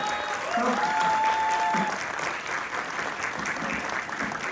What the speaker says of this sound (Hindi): मेरे बैक स्टेज से भी जोरदार तालियां आने लगी है पूरी सब्जी के नाम से।